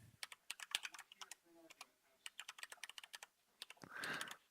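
Quick bursts of close, crisp keystrokes on a computer keyboard as an email address is typed, with short pauses between runs and a soft rustle near the end.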